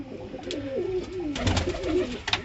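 Pigeons in a rooftop loft coo in low, rolling, warbling phrases close by, with a few soft flutters and knocks mixed in.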